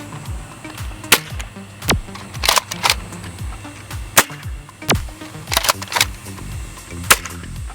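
Adventure Force Nexus Pro toy blaster firing short foam darts, a rapid series of sharp snapping shots with spring thwacks and uneven gaps, loud and close.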